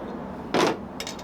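A bottle of homebrew pale ale is opened with one sharp hiss of escaping gas, followed by a few faint clinks.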